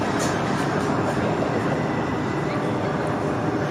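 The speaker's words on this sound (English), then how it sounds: "Meanwhile, we have an outbound Red Line train to the airport." An outbound Red Line metro train heading to the airport rumbles loudly and steadily close by, a dense continuous roar of cars and wheels on rails with faint high squeals.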